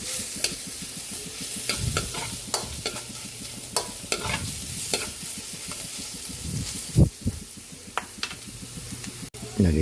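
Garlic and ginger sizzling in oil in a pan while cooking tinola, a steady crackling fry broken by frequent scraping stirs and a few sharp knocks of a utensil against the pan.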